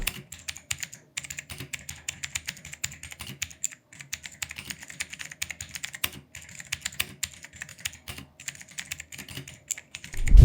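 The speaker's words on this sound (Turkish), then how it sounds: "Ayrıca klavyenin de bu şekilde bir sesi var." Fast steady typing on an Ajazz AK-820 compact 70% mechanical keyboard with blue switches, a dense run of sharp clicky keystrokes close to the mic with brief pauses, ending in a louder thump.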